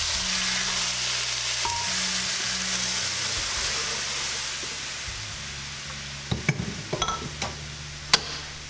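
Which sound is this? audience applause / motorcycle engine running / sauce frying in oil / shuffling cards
sauce frying in oil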